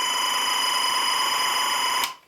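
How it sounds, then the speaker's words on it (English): SMPTE timecode audio signal played out of a CDJ into a mixer, a harsh, steady buzzing data tone that runs loud and unbroken for about two seconds, then cuts off abruptly. "It's a horrible noise, as Armin already said, but it's actually some sort of a code, and I always compare it with a Morse code."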